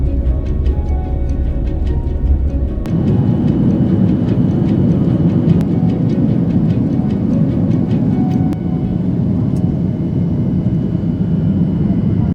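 An airliner in flight on a trip to Sanya makes a steady, loud cabin drone, a deep constant engine rumble with faint ticks, and the tone shifts slightly a few seconds in.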